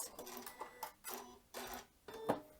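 A sewing machine stitching to the end of a seam on a paper-pieced quilt block, heard as four or five short, quiet mechanical whirring bursts with brief pauses between them, close but low in level.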